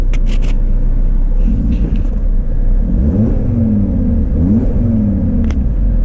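An Audi RS3 in park revs against its rev limiter, a loud, steady engine drone with a held rumble and repeated rising and falling whines as the limiter cuts in.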